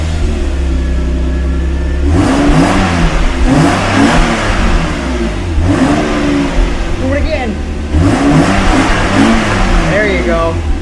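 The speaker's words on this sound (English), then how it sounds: "let's get an exhaust clip of it stock." Stock exhaust on a Lexus SC300, before a muffler delete, revved in repeated bursts with a pause between each. The throttle climbs and drops back several times, close and fairly loud, while voices talk over it.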